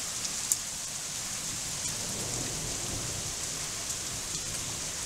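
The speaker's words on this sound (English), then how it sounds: "So we had rain and hail, and the crazy lightning storm." Steady rain pours during a lightning storm that also brings hail, hissing evenly throughout, with a couple of brief sharp impacts and faint low thunder rumbling underneath.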